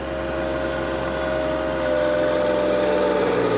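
A nearly new John Deere 1025R subcompact tractor engine runs at high RPM, a loud, steady mechanical drone that swells slightly in strength midway, heard close with no voices.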